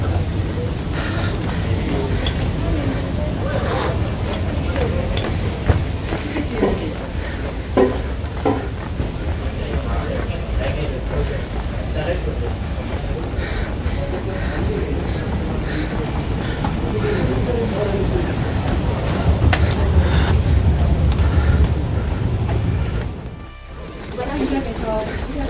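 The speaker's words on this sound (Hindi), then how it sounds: "सो भी आ गए हूँ मेट्रो स्टेशन के अंदर" Ambience inside a Dubai metro station: a steady low rumble and hum of trains and the station hall, with scattered clatter and footsteps throughout and a brief dip near the end.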